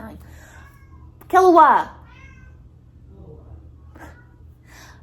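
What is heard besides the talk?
cat meowing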